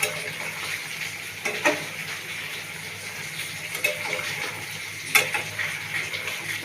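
Potato pieces fry in a pan, giving a continuous low sizzle with faint crackles, punctuated by a few soft scrapes and taps as they are stirred, with some low background hum.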